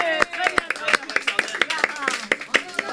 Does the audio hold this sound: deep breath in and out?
no